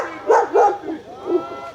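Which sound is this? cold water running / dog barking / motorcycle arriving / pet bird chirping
dog barking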